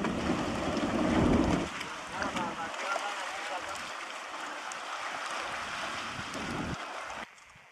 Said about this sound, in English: It's really puffing out the steam now.